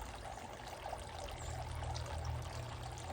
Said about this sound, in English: Watch this waterfall a little longer